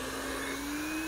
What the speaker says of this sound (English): the reason I like the hair dryer is you can actually hear how much harder the motor is working.